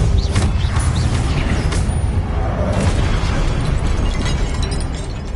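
Confringo blasting spell in Hogwarts Legacy: a loud, booming explosion with rumbling, crackling debris that carries on for several seconds, alone and without talk.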